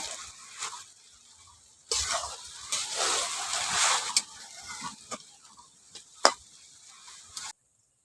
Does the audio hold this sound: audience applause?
no